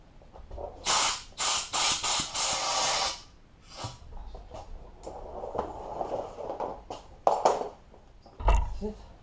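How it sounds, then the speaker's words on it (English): An old air compressor blows air to free a handlebar grip on a Ducati XDiavel, giving several close, loud hissing blasts followed by quieter bursts and handling clatter. "to get the handlebar grip off this side. I'll use my old compressor."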